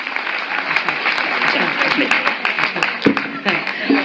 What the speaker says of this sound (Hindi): एक बार पूरा सदन जोरदार ताली बजाकर बताइए